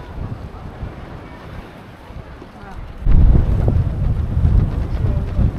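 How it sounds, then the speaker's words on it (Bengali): Strong gusty wind at the beach buffets the microphone, a steady low roar that surges sharply louder partway through and stays blustery to the end, with no speech. "আজকে তো অনেক বেশি বাতাস, মাথা নষ্ট করা বাতাস"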